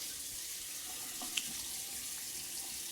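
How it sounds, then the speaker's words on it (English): Cold water runs steadily from a bathroom tap into a sink, a constant close hiss of flow with one brief clink partway through. "I switch to cold water now."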